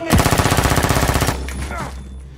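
Rapid machine-gun fire in a film scene at a security-guarded opera house, a dense burst of loud, evenly spaced shots for over a second before cutting to a lower rumbling tail.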